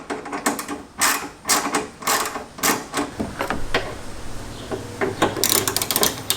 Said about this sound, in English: So we're going to use a 7mm socket to remove these top screws.